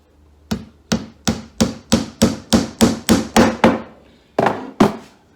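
Hammer driving tacks into the edges of a homemade fishing seat box, about a dozen sharp, even knocks in a steady rhythm, then a short pause and two more blows, close and loud.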